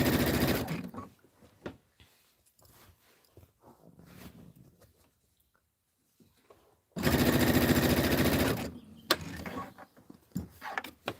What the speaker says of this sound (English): So I am going to finish sewing these borders on